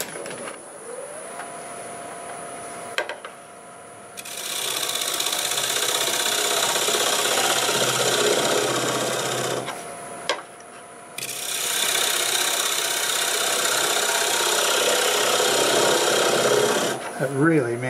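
Negative rake scraper cutting wood on a lathe during woodturning, two long rasping scraping passes over the spinning lathe's steady hum, close and fairly loud, with short pauses between cuts.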